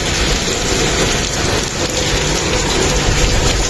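Heavy rain with hailstones pouring down outdoors, a loud, dense, unbroken roar that stays constant throughout.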